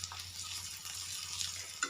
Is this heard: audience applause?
no